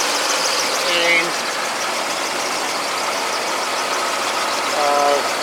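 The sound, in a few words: vehicle engine idling after mixture and idle reset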